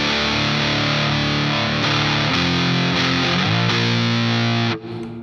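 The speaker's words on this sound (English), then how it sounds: "it's a very kind of like brutal distortion and fuzz" An electric guitar played through a Catalinbread Katzenkönig distortion fuzz pedal with the gain at zero gives thick, saturated chords that change a few times, ringing heavily, then cuts off abruptly near the end.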